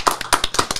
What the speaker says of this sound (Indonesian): Berikan tepuk tangan sekali lagi untuk Andri Tani Ardiansyah.